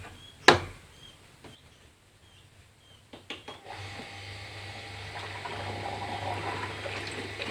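A Panasonic twin-tub washing machine rinses laundry under a spray of water, a steady running, splashing wash that builds after a few knocks and clicks and continues with a low motor hum underneath.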